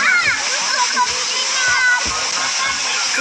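Water splashes loudly at a close waterfall, a constant rushing spray, while people talk over it, including a voice.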